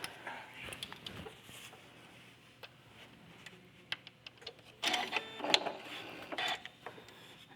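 A domestic sewing machine stitching curved quilt pieces: bursts of rapid mechanical ticking and whirring, quieter and intermittent early on, then louder sustained runs of stitching near the end, with no talk.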